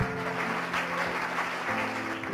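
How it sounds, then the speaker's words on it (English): An audience at a literary reading event claps in a dense, sustained burst, steady throughout, with no voices over it. "Please, one more round of applause for these unbelievable readers."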